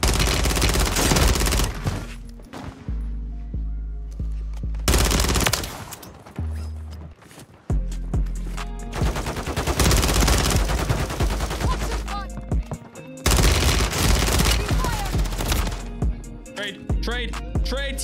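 Sniper rifle fire in Warzone 3, a few loud sharp shots with a busy layer of game gunfire, music and effects running throughout at close range.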